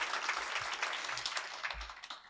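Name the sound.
audience applause at community leadership roundtable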